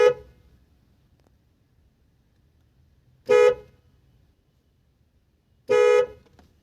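A Bosch symphony horn fitted to a Wagon R sounds from inside the car in three short, loud, tonal honks, spaced a few seconds apart, with near silence in between.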